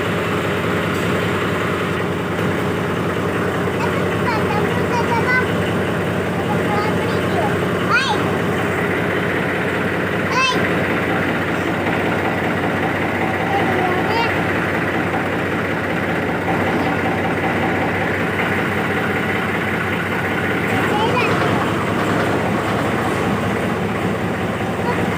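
A tractor engine idles and runs steadily as it reverses on a farm plot, producing a constant low, rumbling drone with no speech.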